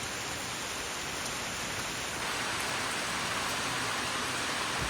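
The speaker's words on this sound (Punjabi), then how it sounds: "ਬਹੁਤ ਸਪੀਡ ਨਾਲ ਮੀਂਹ ਪੈ ਰਿਹਾ ਯਾਰ" Heavy rain pours down steadily, a dense continuous hiss with no voices or breaks.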